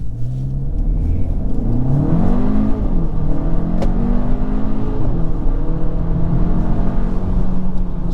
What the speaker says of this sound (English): I'm gonna try brake torquing this time just to see if we can get better.